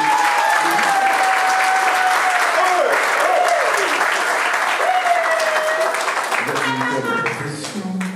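Sustained crowd applause fills a civil wedding ceremony in Libreville, Gabon, dense and steady for about six seconds before thinning out, with a raised tone or whistle-like line running through it and a voice speaking near the end.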